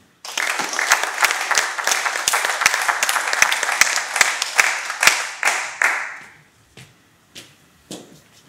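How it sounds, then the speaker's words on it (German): An audience applauds at an award ceremony for an innovation transfer prize, with steady dense clapping and sharper individual claps for about six seconds before it thins out into a few scattered late claps. "das ist auch wieder ein besonderer Applaus wert"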